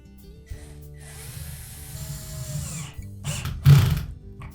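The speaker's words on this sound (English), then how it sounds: "And then we'll tighten up those two clamps." Clamps on the lower spray arm base of a GE dishwasher are tightened with a power driver, short whirring bursts and rattling clicks close by, ending in a louder buzzing run near the end.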